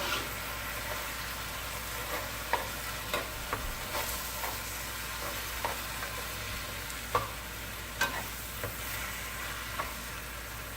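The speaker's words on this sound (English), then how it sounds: "I got my turkey added in. And I'm just stirring everything together" Ground turkey being stirred into a homemade lasagna meat sauce in a pan, a steady low simmering sizzle broken by scattered spoon scrapes and soft knocks, close by and fairly quiet, with no one talking.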